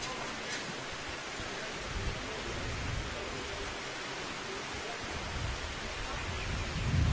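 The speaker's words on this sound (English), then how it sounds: "That rain is steadily coming down." Heavy rain drums steadily on a roof above an indoor lawn bowls green during a senior men's inter-region final, a dense, constant hiss with no voices.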